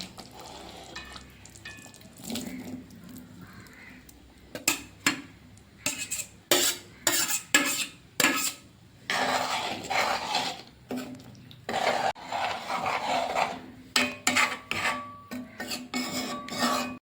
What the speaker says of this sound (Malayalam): ഇനി ഇതിലേക്ക് വഴറ്റി വെച്ച വെളുത്തുള്ളി കൂടി ചേർത്ത് കൊടുക്കാം